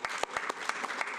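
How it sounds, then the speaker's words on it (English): An audience at a planning commission meeting applauding, with separate claps coming at a fairly steady pace over a short stretch. It sounds a bit distant and soft, as if heard from across the room. "Let's give them a round of applause."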